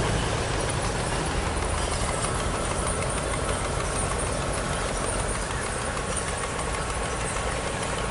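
A barge's engine drones steadily and loudly without pause throughout, a constant low rumble with a broad wash of noise and no voices.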